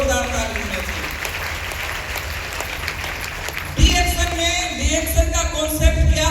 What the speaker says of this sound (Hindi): डीएक्शन के लिए जोरदार ताली होना चाहिए।